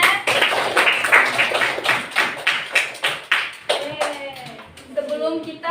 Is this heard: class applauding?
yes